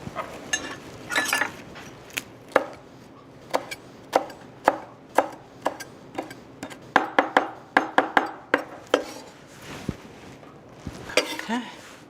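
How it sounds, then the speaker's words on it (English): Fresh basil chopped with a knife on a cutting board: a run of about twenty crisp, close knocks at an uneven pace, some quick bursts and some spaced strikes, over a faint kitchen background. "We just chop up some."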